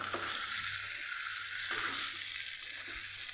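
Kathiyawadi okra and potato curry is stirred in a pan over high gas, producing a constant fairly faint sizzle with a couple of spatula scrapes, close up and without speech.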